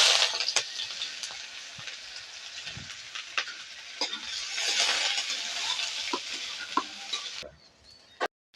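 Chopped onion tossed into very hot oil in a wok over a high gas flame, a continuous sizzling hiss with scattered scraping and clinking of a spatula, stopping abruptly near the end.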